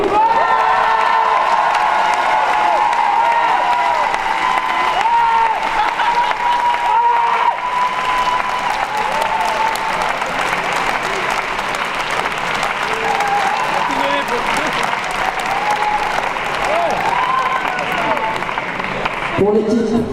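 A large crowd at a left-wing municipal election rally in Brest applauds and cheers loudly and steadily for about twenty seconds, with whoops and shouts rising over dense clapping.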